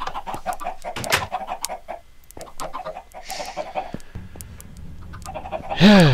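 Chickens cluck and squawk nearby in short bursts, with a louder cackle near the end, over a person talking.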